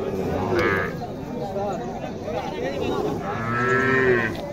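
A native cow lows twice at the busy Mahadevpur cattle market in Naogaon, a short moo early and a longer, louder one near the end, with someone talking in between and market chatter behind.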